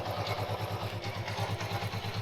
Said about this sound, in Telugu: ఒకసారి మీకు ఇంజిన్ బీటింగ్గా వినిపించేస్తాను, వినేయండి